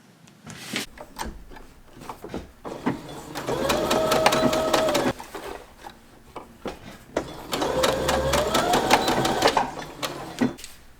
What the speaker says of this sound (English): We're just gonna sew a little V on each side to the dot, and that's gonna reinforce it.